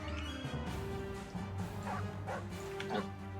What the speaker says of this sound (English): that's how hellhounds sound.